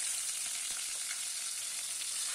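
Tilapia fish frying in a hot nonstick pan, a continuous soft hiss of sizzling oil with faint crackles, fairly quiet and steady, no voices.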